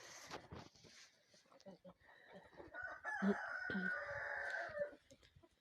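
Roosters crow in a farmyard with young chickens nearby, one long loud cock-a-doodle-doo close at hand, with softer clucks and someone talking before it.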